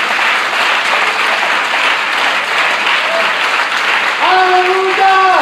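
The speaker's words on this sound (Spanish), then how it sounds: "un aplauso tremendo al Dios de la gloria" A church congregation claps loudly in a dense, continuous applause that fills the space. Near the end, a voice rises over the clapping with drawn-out shouts.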